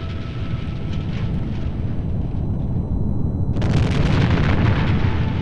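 Mount Vesuvius erupting with a massive explosion: a continuous deep rumbling roar that suddenly swells into a louder, harsher blast of crackling noise, loud and close.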